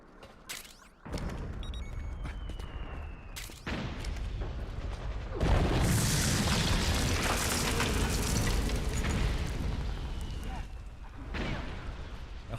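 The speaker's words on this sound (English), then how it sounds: "I love my rocket launcher." A rocket launcher explosion in Metal Gear Solid 4 erupts as a loud, sustained roaring blast with rumbling debris, preceded by sharp game impacts and mechanical clanks, lasting several seconds up close.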